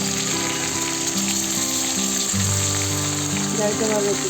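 Tempering spices and leaves in hot oil for a Bengali home-cooked curry, with the stove just switched off, giving a loud, steady, close sizzle and crackle that runs continuously without a break.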